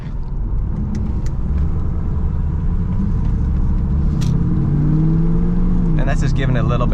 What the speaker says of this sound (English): And that's just giving it a little bit of throttle like an old man.